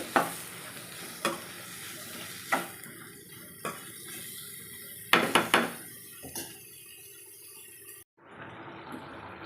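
Egg curry simmers in a pan while a spoon stirs it, a soft steady sizzle broken by a series of sharp scraping knocks against the pan, then the sound cuts briefly before continuing.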